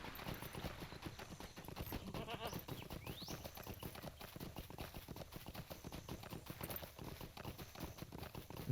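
Horse hooves clip-clop steadily in the Lord of the Rings Online video game, a fast, continuous rhythm of riding hoofbeats loud and close throughout, with a faint high tone running over them.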